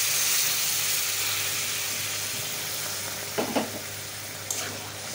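Hot water poured into a pan of sautéed onion, garlic and ginger masala for a Bengali red pangas fish curry, giving a steady close sizzle and hiss with a few brief bubbling bursts toward the end.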